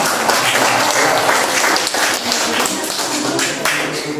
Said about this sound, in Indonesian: Ayo, kasih tepuk tangan dulu ya.